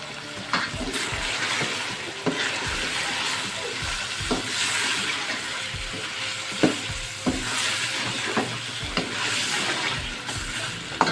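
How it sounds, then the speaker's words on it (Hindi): Tomato paste sizzling and frying in a pot of chicken korma as it is stirred, a loud, constant hiss with repeated scraping and clinking of the spoon against the pan at irregular intervals. "टमाटर का पेस्ट डाल देंगे इसमें।"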